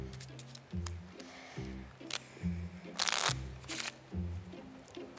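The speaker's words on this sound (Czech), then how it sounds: "já zamíchám balíček i s vaší kartou" A deck of playing cards is shuffled repeatedly at close range during a magic act on a televised talent show, giving a rhythmic series of riffling bursts and crisp snaps with no voice over them.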